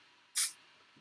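Hairspray from an aerosol can sprayed onto hair during flat iron curling, a single short hissing burst about a quarter second long in a quiet room.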